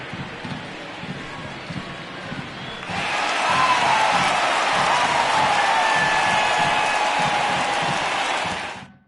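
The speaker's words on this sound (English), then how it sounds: "he receives a nice ovation from this home crowd" A home ballpark crowd in the baseball video game MLB The Show 19 breaks into a loud, sustained ovation after a lull, with applause and cheering swelling and holding for several seconds before fading out at the end.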